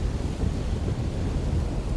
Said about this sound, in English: These waves here are just like crashing, really, just like straight up, really high.